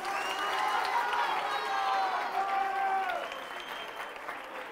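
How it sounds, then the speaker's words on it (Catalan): A studio audience at a Catalan spelling contest show claps for a contestant, a warm burst of applause with faint voices and tonal music over it that eases off near the end. "fem-li un gran aplaudiment al Pablo"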